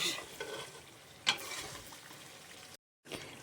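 Dudhi makhandi halwa stirred in a pan over a low flame, soft scraping and faint bubbling, with one sharp utensil knock and a brief cut to silence near the end.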